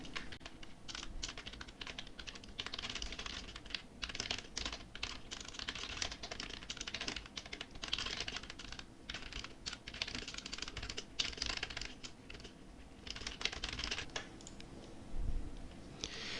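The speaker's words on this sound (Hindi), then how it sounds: "जो सब्जेक्ट होता है वो हम यहाँ पर टाइप करेंगे।" Steady typing on a computer keyboard in Microsoft Word, a dense, continuous patter of close key clicks with brief pauses, lasting about sixteen seconds without talk.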